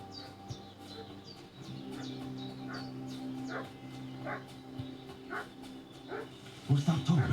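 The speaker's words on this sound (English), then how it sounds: "What's that dog making such a fuss about?" A dog barks repeatedly in the Kingdom Come Deliverance 2 video game, moderately distant yowls over a bed of chirping birds, with a louder clatter at the end.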